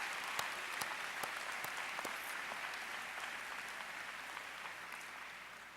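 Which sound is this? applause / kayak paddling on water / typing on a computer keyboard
applause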